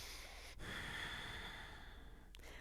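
A couple of slow, close breaths, each with an audible inhale and exhale, come from someone working through a Wunda Chair Pilates exercise.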